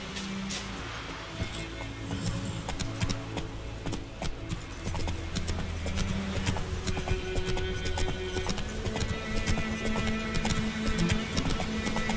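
Roach, a horse in The Witcher 3, trots with steady, rapid hoof clip-clops that run unbroken and fairly loud throughout, with faint ambient game sound beneath.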